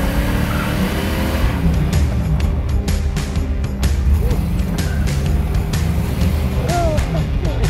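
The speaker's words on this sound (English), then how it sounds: "this has got a 400 engine, so it's made to lay a patch" A 1967 Pontiac Firebird with a 400 engine laying a patch: loud, close engine roar with bursts of revving and tire squeal, sustained throughout with faint interior rattles.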